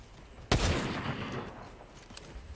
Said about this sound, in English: There's gunfire coming from that direction somewhere.